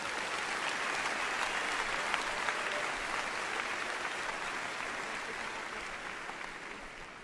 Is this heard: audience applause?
yes